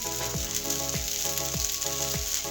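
Vegetables and pre-fried eggs stir-fry in a hot pan for restaurant-style Hakka noodles, a strong steady sizzle broken by regular tossing scrapes about every half second.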